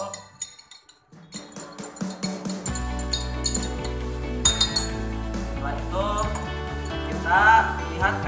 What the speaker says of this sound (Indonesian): Amel, jangan lupa ya kita aduk dulu.